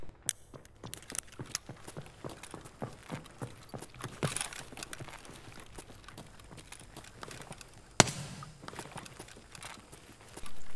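Footsteps approach in a survival shooter video game, a run of soft, irregular steps with faint scuffs and a sharp thud partway through.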